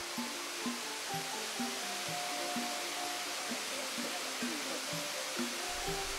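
Water falls continuously at Tat Kuang Si waterfall near Luang Prabang, a steady, broad rushing hiss, partly overlaid by soft, rhythmic plucked music.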